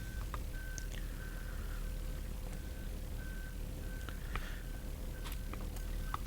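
Outside, a reversing lorry sounds its high warning beeper in evenly spaced beeps, faint and distant under a constant indoor hum.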